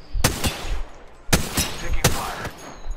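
Gunfire in the Apex Legends video game: several loud, sharp shots come in quick pairs and singles, close and punchy, with a low rumble between them.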